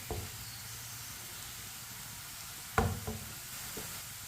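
Chopped onions browning in a pan for a bhindi masala, a steady soft sizzle with occasional knocks and scrapes of a spoon stirring, one sharper clatter partway through.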